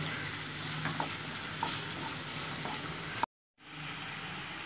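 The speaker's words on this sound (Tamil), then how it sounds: "நல்லா வதங்கணும் வெங்காயம்." Onions sauté in a pan for a prawn pepper fry, a dense steady hissing sizzle with a few soft stirring taps, close and fairly quiet, cut by a brief moment of silence before the sizzle resumes.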